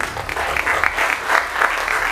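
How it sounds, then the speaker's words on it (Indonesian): Applause from an audience at a university public lecture on economics in Semarang, a dense, steady patter of clapping that swells and fades slightly across the short stretch with no talk over it. "Ya, tepuk tangan."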